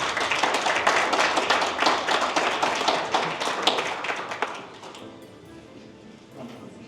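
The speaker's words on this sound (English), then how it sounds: "let's give all ourselves a round of applause" Crowd applause at a business launch event in Brisbane, dense clapping for about five seconds that then thins out and fades, with faint room murmur left afterward.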